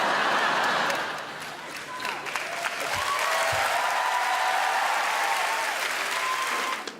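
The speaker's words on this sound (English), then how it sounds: "thank you for stopping clapping really quickly" A comedy club crowd claps and cheers for a stand-up comedian, full applause that dips briefly then swells again and holds steady, with some voices faintly mixed in.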